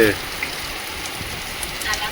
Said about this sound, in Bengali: তুফান বৃষ্টি হচ্ছে,